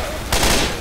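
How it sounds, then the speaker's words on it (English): A short, loud burst of rapid gunfire in Left 4 Dead 2, a sudden rattling volley erupting after a brief lull and ringing out for about half a second. "You are shooting me!"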